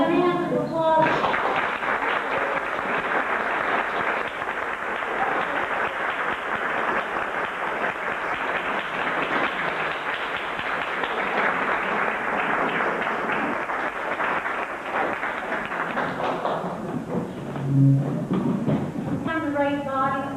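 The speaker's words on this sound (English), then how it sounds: "We have a hand of applause." Sustained applause from a fashion show audience, a dense steady patter of clapping that fills the room for most of the stretch before thinning out near the end.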